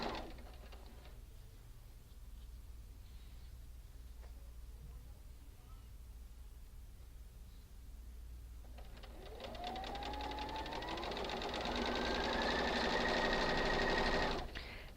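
A sewing machine chain-pieces quilt block units. It hums quietly at first, then from about nine seconds runs louder and faster with a rising whine before cutting off sharply.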